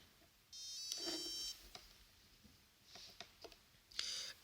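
Sony Ericsson T68i mobile phone starting up: a short bright electronic chime, then scattered soft clicks and beeps, ending in another brief tone burst, close and fairly quiet with no talk.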